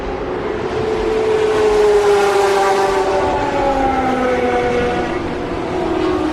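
Racing car engines at Le Mans 2012, at night during qualifying, roar and whine in sustained, rising and falling tones, loud and continuous, with no voices.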